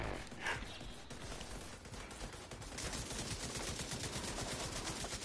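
Machine gun in a shooter video game firing rapid dense bursts of gunfire, a continuous stuttering rattle of shots that grows heavier in the second half, with no talking over it.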